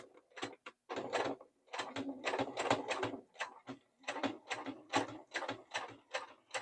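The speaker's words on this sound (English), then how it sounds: "Little back stitch to lock the stitch." A sewing machine runs a short back stitch to lock the seam through a couple of layers of fabric, giving a close run of rapid mechanical ticking and clacking bursts with brief pauses between them.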